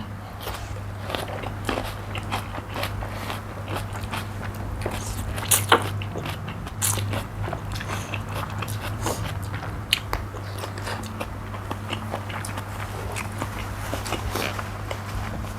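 Close, steady chewing and biting of Thai pork sausage (moo yor) with crispy pork alongside spicy mixed papaya salad, with repeated crunchy crackles and soft mouth sounds over a low constant background hum.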